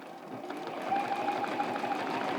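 A sewing machine runs steadily while machine quilting a sun star block, its fast, even whirring hum continuing without pause at moderate level throughout.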